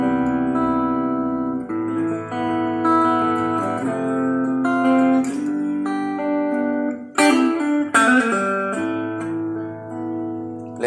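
Clean electric guitar through an amp, picking sustained notes and chords at a moderate pace, with a couple of brighter strummed accents near the end.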